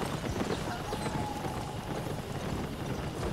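Horse hooves clip-clopping in the video game Albion Online, a rapid continuous patter of hoofbeats from a ridden horse, close and steady, with someone talking over it.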